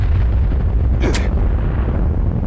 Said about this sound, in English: the orbital strike lets off a huge explosion